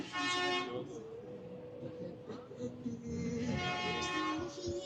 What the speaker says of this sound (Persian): انقدر ترافیکه دارید میشنوید دیگه، بوق اتوبوسی که هی بوق میزنه که مردم حرکت کنن